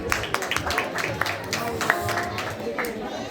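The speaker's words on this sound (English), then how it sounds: "Can we have a round of applause" A round of applause from the crowd at a festival sponsor appreciation event, scattered claps and cheering under murmuring crowd chatter and nearby voices, moderately loud throughout.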